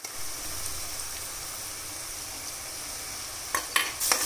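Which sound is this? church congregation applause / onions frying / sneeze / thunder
onions frying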